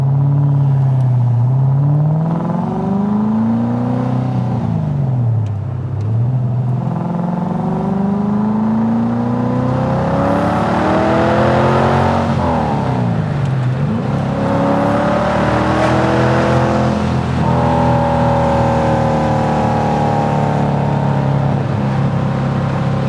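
Datsun 240Z Z-Beast restomod with a high-torque engine and six-speed gearbox, accelerating hard through the gears: loud, close engine revs rising and dropping at each shift, heard alone.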